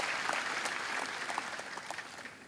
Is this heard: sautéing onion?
no